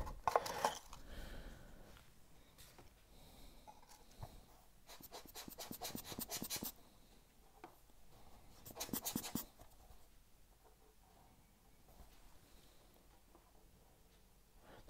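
Fine-grit sanding on a small 1/400 Queen Mary 2 model ship part gives soft, close rubbing strokes in short irregular passes, quiet overall, with a couple of brisker scratchy bursts midway.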